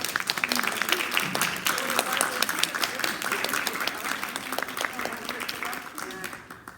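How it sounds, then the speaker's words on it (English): An audience applauds steadily for several seconds, dense clapping that fades near the end, with some voices mixed in. "Big applause."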